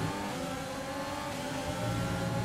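Race cars in an F1 racing video game, heard as a steady, loud engine drone that rises slightly in pitch and swells near the end, with no talk.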